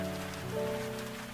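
Rain falls steadily in a quiet village, a soft even patter over a low, sustained tonal background.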